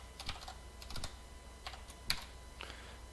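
A few quiet, scattered keystrokes tap on a computer keyboard, light clicks spaced irregularly over a few seconds with no voices.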